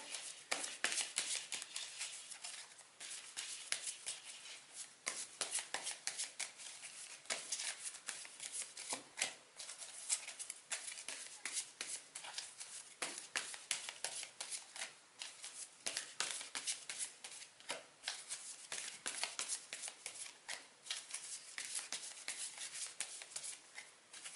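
Tarot cards are shuffled and handled up close, a continuous dry riffling and rubbing with sharp flicks scattered throughout, heard on its own.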